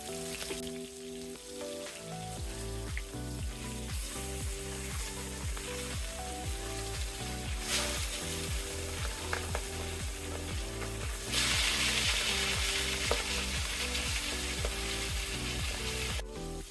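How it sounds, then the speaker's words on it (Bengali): Pieces of boal fish rubbed with turmeric and salt fry crisply in mustard oil in a pan, giving a continuous crackling sizzle that stays steady and fairly faint throughout, with no talking. "আমি একটু কড়া করে মাছগুলো ভেজে নেব"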